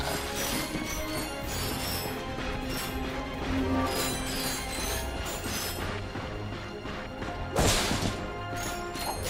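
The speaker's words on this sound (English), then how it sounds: "Look at him smashing crates." Crates smash repeatedly in the Ratchet and Clank video game, a dense run of cracks and thuds over busy game sound, with a sharper crash near the end.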